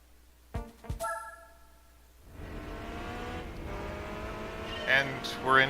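Renault Aventime driving in the racing game Gran Turismo 4, with a steady engine drone and rising revs, brief tire squeal near the end, and a person talking at the start.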